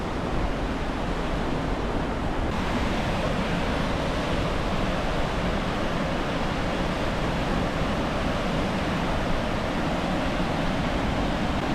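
Koosah or Sahalie waterfall in Oregon roaring as a constant, broad rush of falling water, loud and unbroken, heard close without other sounds.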